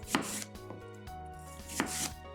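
A knife cuts apple quarters into thirds on a cutting board, giving two crisp, close chopping thuds about a second and a half apart over a quiet background.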